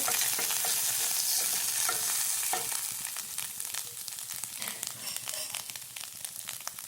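Cauliflower with grated coconut frying in a pan for a spiced thoran, a dense close sizzle with frequent crackles and stirring scrapes, gradually easing slightly in loudness, no speech.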